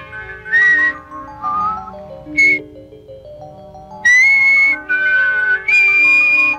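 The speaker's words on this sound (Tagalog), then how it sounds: "Marunong ka ba sumipol? Oo. Ganito ang sipol." Someone whistles a short tune of clear, sliding notes, with brief pauses between phrases.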